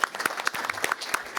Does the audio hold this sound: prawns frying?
no